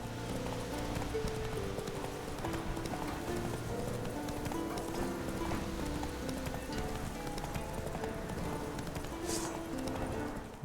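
A horse's hooves clip-clop at full gallop in The Witcher 3. The rapid, continuous hoofbeats run quietly under a soft hiss like rain.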